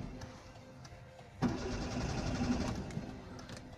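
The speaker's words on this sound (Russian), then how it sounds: "Сейчас пробую завести опять автомобиль." A car engine cranks and turns over, trying to start, with a sharp onset followed by a sustained mid-pitched churning run of a few seconds, close and loud with no voices.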